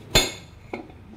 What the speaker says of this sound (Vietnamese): và bỏ cái dĩa vô đây để mình hấp.